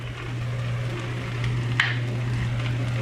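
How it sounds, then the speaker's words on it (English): Okra frying in a pan with dry powdered spices like turmeric, red chili, coriander and amchur, giving a steady, even sizzle under a constant low hum, with one brief scrape of stirring midway. "mix all of this well with the bhindi and let this fry again for another 1 to 2 minutes"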